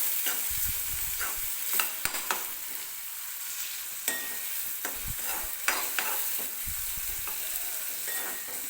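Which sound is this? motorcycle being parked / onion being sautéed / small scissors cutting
onion being sautéed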